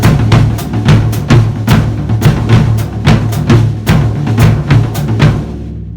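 A full drum kit plays the Bo Diddley beat: flammed accents move between two drums over a steady bass drum pulse from the feet. The playing is loud, dense and driving, with no speech.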